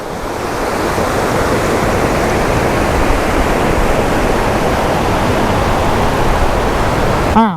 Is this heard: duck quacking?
no